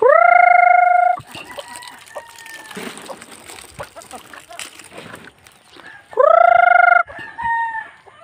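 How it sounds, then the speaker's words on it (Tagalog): Two loud, long rooster crows near the start and later, with scattered clucks and farmyard rustling in between. "Mga manok."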